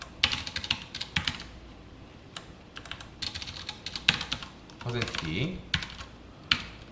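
Java code is typed on a computer keyboard in bursts of crisp, close clicks, with pauses and a few louder key strikes, while someone speaks Korean briefly in between.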